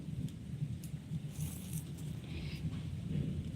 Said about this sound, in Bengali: মেঘ ডাকছে বৃষ্টি হচ্ছে